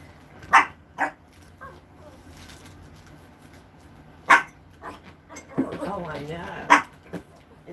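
Small spoiled dog barking indoors in a home kitchen, with sharp separate yaps spread out, then a whimpering whine and another bark, close by.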